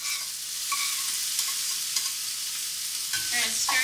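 Onions and peppers sizzle steadily in a hot pan, with soft scraping stirs and light clinks running through the constant frying hiss, no voices.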